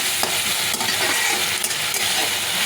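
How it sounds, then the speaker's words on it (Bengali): Veg noodles with tomato ketchup and black pepper are stirred in a pan, giving a steady sizzle broken by scraping strokes and a few sharp clinks of the spatula, close and with no talk. "দিয়ে এটাকে নেড়ে নেব।"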